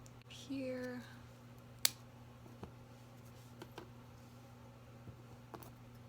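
Sharp, isolated snips of scissors cutting Echeveria and Crassula succulent stems for propagation, a handful of faint clicks spaced over several seconds after a brief spoken word, against a steady low hum.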